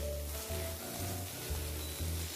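Chicken pieces sizzling in a pan on top of already-fried mushrooms, a steady close frying hiss with a low rhythmic pulsing, no voices.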